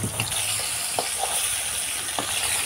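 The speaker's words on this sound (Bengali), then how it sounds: "তেলটা খুব ভালোভাবে গরম হলে তবেই কিন্তু মাছগুলো দেবেন" Bhetki fish frying in hot oil, a dense close sizzle holding steady throughout, with a few faint pops and taps breaking through.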